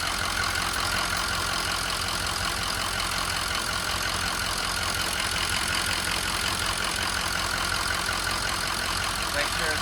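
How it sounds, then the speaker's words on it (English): A Ford 6.0 Powerstroke diesel pickup engine idles steadily and fairly close, a dense, even rumble with clattering texture that holds unchanged for the whole stretch, with no talking over it. "Now that I got the truck idling"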